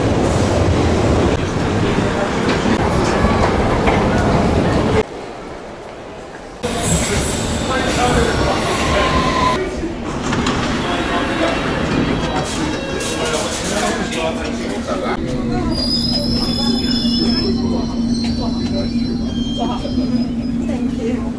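London Underground Piccadilly line train running, a loud continuous rumble of wheels and carriage with a brief quieter gap, rising wheel squeals later on, and people talking over the din.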